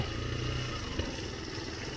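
A motorcycle rides along a bypass road between Alaminos and San Pablo, its engine a steady, close, continuous drone with a brief bump near the middle and no talk over it.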